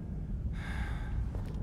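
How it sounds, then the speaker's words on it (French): Out-of-breath male character in The Evil Within catching his breath, a single sharp gasp followed by a heavy sighing exhale over a low droning game soundtrack, no speech. "Il est essoufflé, il va reprendre son souffle."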